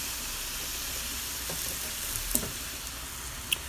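Beef frying in a pan with teriyaki sauce, a steady soft hiss of sizzling with a couple of faint clicks and crackles as it cooks.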